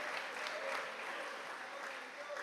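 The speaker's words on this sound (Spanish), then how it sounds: "Denle un fuerte aplauso, pero con todo el alma al Rey de Reyes" A church congregation applauds together, a steady, even wash of many hands clapping that sounds distant and quiet throughout.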